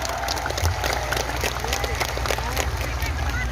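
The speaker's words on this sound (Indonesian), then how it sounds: "tepuk tangan untuk NU Taiwan" An audience at a religious gathering in Taiwan claps in a steady, crowded patter, fairly loud and continuous, with babble and a low rumble mixed in.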